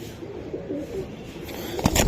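A racing Giribaz pigeon coos softly at close range against a low background hum, with a few brief rustles near the end.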